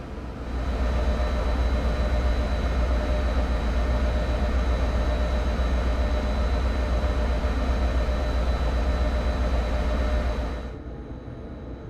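Amtrak ACS-64 electric locomotive in Train Sim World 4, arriving at Providence: a steady, loud low rumble with a faint whine that holds for about ten seconds, then fades abruptly near the end. No doors are distinctly audible.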